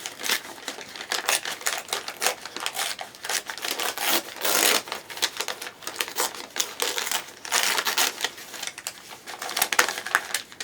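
Thin brown lunch-bag paper being torn by hand into a square, a close series of dry ripping and crinkling bursts with short pauses between them, alone without talk.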